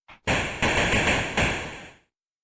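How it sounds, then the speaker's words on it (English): A Commodore 64 Old West gunfire sound effect: a short pop, then three or four loud crackling broadband shots in quick succession, each decaying into the next, ending abruptly. "or the Old West classic gunfire"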